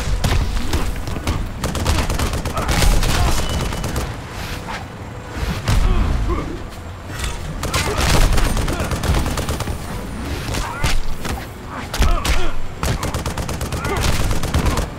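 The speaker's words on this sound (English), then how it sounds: "defeat the soldiers while avoiding helicopter gunfire" Helicopter gunfire from the video game Injustice: Gods Among Us rattles in loud, continuous bursts and fusillades with booming thuds, a dense battle mix running throughout without speech.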